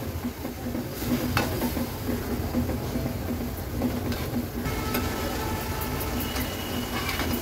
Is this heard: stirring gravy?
yes